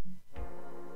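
Kick drum with a clean, dry reverb tail, one low thump after a brief lead-in, then a long sustained reverberant wash that stays steady and decays slowly to the end.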